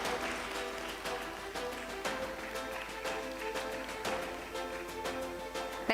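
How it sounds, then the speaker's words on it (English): An audience claps at a stock-exchange listing ceremony, a dense, steady patter of many hands that keeps going over music. "Can we have a round of applause for Mr. Abhishek, everybody?"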